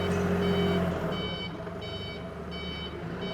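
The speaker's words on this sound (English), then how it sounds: "Nice backup alarm too, let everybody know that you are backing up" Steady repeating backup alarm on an Octane FD25BCS 5,500 lb diesel forklift, sharp evenly spaced beeps sounding close and loud over the low rumble of the idling diesel engine.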